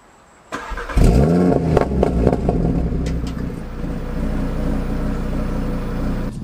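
A car fitted with a 4-inch downpipe fires up and revs hard, then settles into a loud, steady, deep engine roar that fills the whole stretch with no talking.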